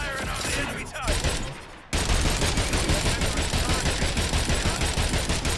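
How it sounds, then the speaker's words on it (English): Rapid gunfire in the video game Agents of Mayhem, dense bursts of automatic shots that briefly drop off, then resume as a continuous loud fusillade. "Firing on the enemy target."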